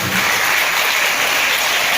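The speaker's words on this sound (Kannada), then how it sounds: "ಮಕ್ಕಳೆಲ್ಲರಿಗೂ ಮತ್ತೊಮ್ಮೆ ಜೋರಾಗಿ ಚಪ್ಪಾಳೆ ಅಂತ ಹೇಳ್ತಾರೆ." Loud, dense applause from an audience cheering child performers after a world-music school recital, a steady wash of many hands clapping close and full for about two seconds.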